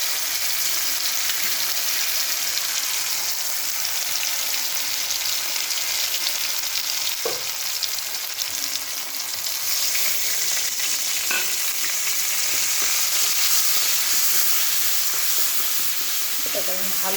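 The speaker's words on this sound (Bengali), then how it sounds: "এটাকে আমি ভালো করে একটু ভেজে নেব।" Cumin, coriander paste, ginger and chili fry in a pan for a dahi potol dish, giving a dense, continuous close sizzle with a few sharp stirring clinks, steady and loud throughout.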